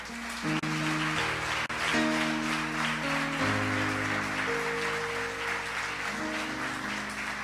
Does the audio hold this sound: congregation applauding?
yes